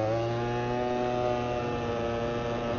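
A Yamaha BWS two-stroke scooter engine revs flat out, a loud, steady, buzzing high-pitched drone that holds constant without a break for the whole stretch.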